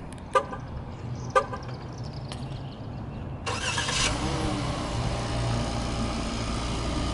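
A 2014 Jeep Cherokee Limited FWD starts by remote start: two brief chirps come first, then the engine catches and settles into a steady, low idle that carries on to the end, close by and with no talk.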